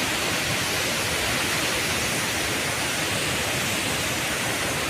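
Rushing water at the Bhimkund waterfall picnic spot, a dense, constant roar of falling water filling the whole scene without a break.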